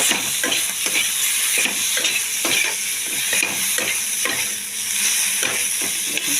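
Chopped fish head stir-fried in oil in a pan, a loud continuous sizzle cut by regular scraping stirring strokes about every half second, close and with no talking.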